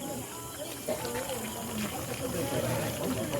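Water poured into a cooking pot of goat kaldereta simmering over a wood fire outdoors, a steady splashing pour lasting a few seconds under broadband cooking noise.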